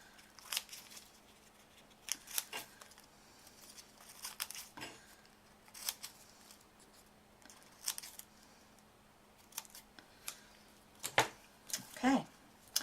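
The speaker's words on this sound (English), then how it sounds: "Just cutting them slightly at an angle, and be careful not to cut all the way through the middle." Scissors snip into a paper chip bag at an angle, a series of sharp, crisp cuts in irregular clusters with papery crinkles between them, close and fairly quiet over a low background hum.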